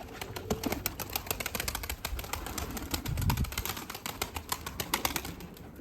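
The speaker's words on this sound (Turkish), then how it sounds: "Kuşlarımız bu arada gelip gidiyorlar." Pigeons at a breeding loft coming and going, with bursts of wing flapping and scattered light clicks and scuffles under a low coo, fairly faint and close.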